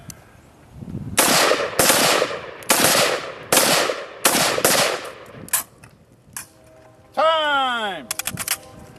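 Five rapid, loud gunshots fired within eight seconds at a shooting range drill, each sharp crack followed by a short echo, then scattered quieter clicks and a brief electronic tone near the end.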